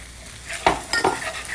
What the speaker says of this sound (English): stir all that in